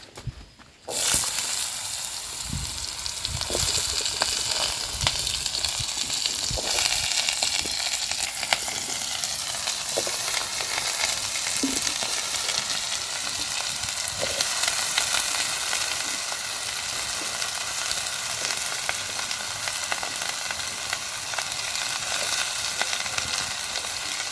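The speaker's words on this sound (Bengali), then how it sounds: "আমি দিয়ে দিলাম কিছুটা সাদা জিরে ফোড়ন এবার আমি ধোয়া আলু কপি এগুলোকে দিয়ে দেবো" Washed potatoes and cauliflower hit hot oil with cumin seeds, bursting into a loud sizzle that settles into steady frying for more than twenty seconds, with occasional stirring scrapes and no talk.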